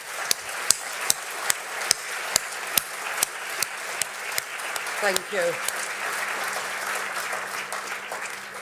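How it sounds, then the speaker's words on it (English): Audience applause at the EUCYS 2017 opening ceremony, steady and fairly distant, with a few sharp close claps standing out early and a brief spoken thanks midway. "I would actually ask you all to give them a big round of applause"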